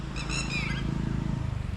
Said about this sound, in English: Now the birds will be quiet now, won't they?